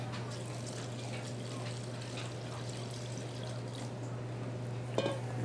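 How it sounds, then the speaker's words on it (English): Lime juice trickles into a key lime pie mix with a soft, faint pouring sound over a steady low hum, close and quiet, ending in a small clink. "we're gonna add some lime juice"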